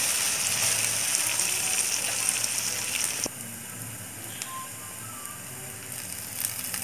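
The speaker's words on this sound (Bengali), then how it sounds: "পাউরুটির পিস ডিমের মিশ্রণে ডুবিয়ে ফ্রাই প্যানে দিয়ে দিলাম।" Egg-dipped bread slices for French toast fry in a pan with a steady, close sizzle that drops to a softer crackle partway through.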